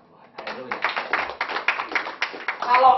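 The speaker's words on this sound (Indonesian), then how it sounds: "Tepuk tangan buat Tuhan. Haleluya." A church congregation claps for God during a worship service, a dense run of hand claps lasting a few seconds with voices mixed in.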